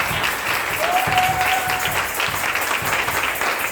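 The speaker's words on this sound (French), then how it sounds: "Je veux qu'on acclame fort pour Jésus" Church congregation applauding and cheering loudly and steadily throughout, a dense sustained wash of clapping with a brief whistle-like tone partway through.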